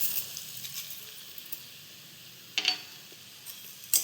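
Boiled chickpeas and peas with sugar are stirred in a frying pan, giving a faint, steady sizzle with soft scraping and a few light utensil clicks against the pan.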